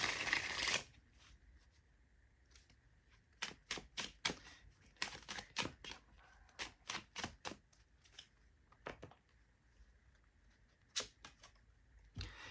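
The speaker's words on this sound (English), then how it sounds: "let's shuffle the cards and see what happens" Repeated crisp riffling bursts of tarot cards being shuffled, close by, coming in irregular clusters with short quiet gaps between them.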